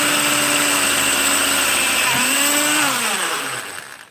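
A drill bites through a car spot weld, its motor whining steadily up close, pitch dipping and rising under load before spinning down and fading out.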